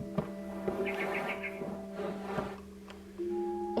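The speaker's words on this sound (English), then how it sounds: "Then I heard chirping outside my window." A barn swallow in the video game What Remains of Edith Finch gives a short run of thin, high chirps, fairly soft, over a sustained musical drone with occasional soft knocks.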